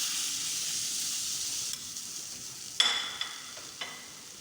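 Chicken tikka hisses steadily as it fries in a pan, the sizzle loud at first and then quieter, broken by a few sharp clinks and scrapes near the end.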